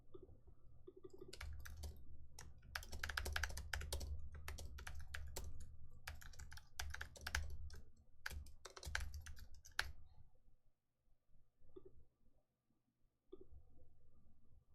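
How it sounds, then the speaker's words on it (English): Rapid clicky typing on a computer keyboard, close and continuous for about ten seconds, then slowing to a few scattered keystrokes. "That's a lot of typing and tabs."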